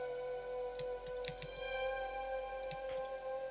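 Quiet computer keyboard with scattered irregular keystrokes, a few clustered taps over a steady electronic hum and faint background music.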